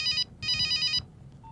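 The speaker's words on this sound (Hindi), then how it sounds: "फोन बज रहा।" A telephone rings with two bright electronic bursts of trilling tone, loud and close, followed by a short faint beep.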